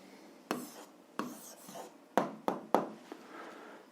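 A pen scratches out an answer on paper in several short, quick strokes, close and quiet, with brief gaps between them.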